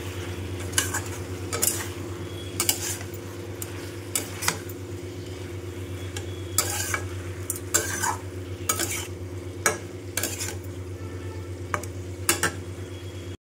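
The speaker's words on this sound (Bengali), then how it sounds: "এবার এর মধ্যে লঙ্কা কুড়ি, হলুদ কুড়ি আর নুন দিয়ে ভালো করে আগে কষিয়ে নেব" Potato, pumpkin and drumstick sautéed with chili, turmeric and salt: a steady pan sizzle runs throughout, broken by repeated sharp scrapes and clinks of a spatula stirring against the pot.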